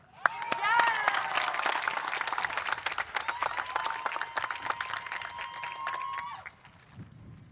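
A round of applause at a high school graduation after a performance, dense clapping that rises quickly and holds steady, with sustained tones and crowd voices mixed in, then fades out toward the end.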